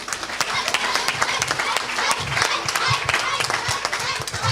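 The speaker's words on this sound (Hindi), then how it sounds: "तालियां बजाएं जी" An audience claps at a church gathering, a steady patter of many hands kept up throughout, with scattered voices mixed in.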